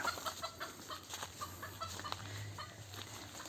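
Several chickens, wild junglefowl among domestic hens, cluck in scattered, overlapping calls over a steady low hum, close by and moderately loud.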